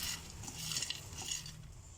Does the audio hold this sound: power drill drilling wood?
no